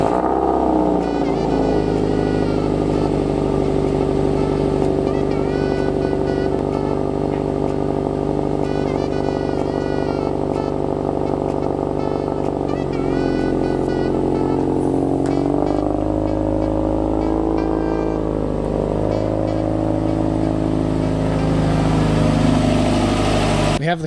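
A lowered Subaru WRX idles and rolls slowly out of a garage, its steady mid-pitched engine rumble close and continuous with slight throttle changes throughout.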